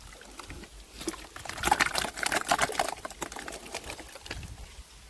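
Wet, sloshing and squelching of thick cow dung slurry mixed with water being stirred by hand, rising into a busier churning in the middle and then easing off.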